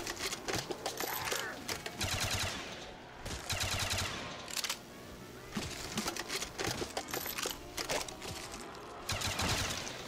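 Rapid automatic fire from a pack-a-punched M60 machine gun in a Minecraft custom zombies map, coming in several loud sustained bursts with brief pauses between them.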